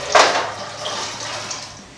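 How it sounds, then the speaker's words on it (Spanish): Fabes beans dropped carefully into a pot of boiling water for fabes with clams, a brief close splash followed by a continuous hissing bubble of the boil. "Le vamos a echar las faves al agua con mucho cuidado de no quemarlos"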